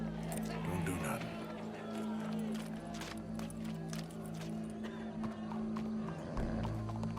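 Horse hooves in Red Dead Redemption 2 clop in an uneven rhythm through the scene, sitting beneath a steady low hum while voices talk over them.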